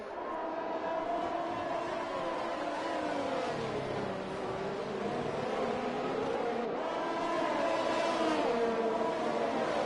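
Race cars lap the Hungarian Grand Prix circuit in a racing video game, a pack running within half a second of each other. Their engines whine steadily and rise and fall in pitch as they pass.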